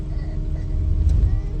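A car cruises along the Samruddhi highway, heard from inside the cabin as a continuous low road and engine rumble with no clear talking.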